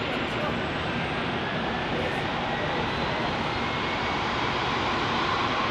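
An American Airlines jet departing Phoenix Sky Harbor International Airport for San Antonio makes a constant, dense engine roar at close range, with no break for the whole stretch.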